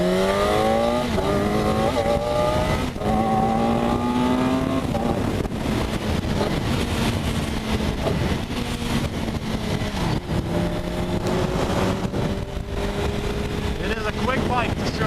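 2008 BMW K1200S sport-touring motorcycle with an Akrapovic exhaust on the move, its engine note rising and falling through gears under strong wind rush, fairly loud and continuous throughout.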